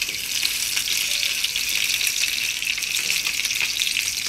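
Salmon fillet sizzles steadily in a hot pan on a stovetop, a close, continuous frying crackle with no talking over it.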